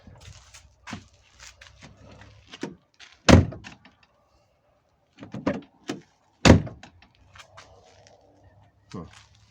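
A driver's door on an Audi A6 C5, just refitted after a window-lifter installation, shuts with two loud, solid thunks a few seconds apart, surrounded by quieter clicks and handling knocks with faint talk in the background.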